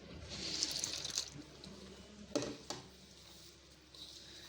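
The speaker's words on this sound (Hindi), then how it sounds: "अब मैं इसको थोड़ा थोड़ा पानी को शामिल करूँगी और इसको गूँदूँगी।" Lukewarm water poured little by little into maize flour for makki ki roti dough, a faint trickle and splash followed by soft pattering and a couple of brief dripping knocks, quiet and close.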